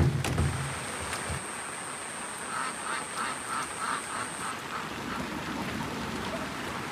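Ducks on a rural farm quack in a faint, repeated series midway through, under a steady hiss of rain falling around them.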